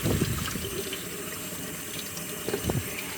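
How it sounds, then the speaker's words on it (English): Tap water runs steadily from a faucet to wet a honing stone, a continuous close splashing hiss with a few louder spatters near the start and end, with no talking. "I'm going to cut the water on and I'm going to wet this stone."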